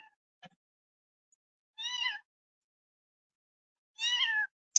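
A mother cat with kittens gives two separate, fairly faint meows about two seconds apart, with near silence between them.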